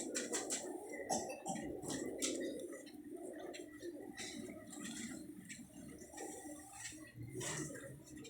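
Several pigeons coo and flutter nearby, soft throaty calls overlapping continuously, with a faint watery rushing in the background.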